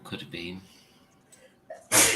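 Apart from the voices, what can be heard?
sneeze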